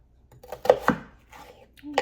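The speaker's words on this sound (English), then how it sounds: "we are going to go ahead and cut up and just rough chop our onion here" A knife rough-chops a Vidalia onion on a cutting board, making several close, sharp thuds in an uneven rhythm with short pauses between the strokes.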